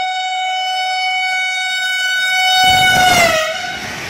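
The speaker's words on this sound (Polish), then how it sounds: "Jedzie pociąg kolejny." A train at Cieplewo, Poland sounds a long, steady multi-tone horn, loud and near, then the roar of the passing cars rises under it as the horn bends and fades.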